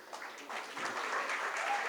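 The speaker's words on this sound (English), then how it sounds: "Some claps, yes." An audience at a tech conference keynote breaks into steady applause, a dense wash of many hands clapping that builds slightly and holds.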